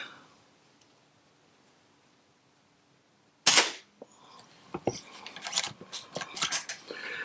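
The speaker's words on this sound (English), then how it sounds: "we're going to send some lead downrange here. Let's get hot, and let's let it fly" A Brocock Atomic XR air pistol conversion fires from a shooting bench at a target: one sharp, close crack after a quiet start, followed by a scatter of mechanical clicks and handling rustles.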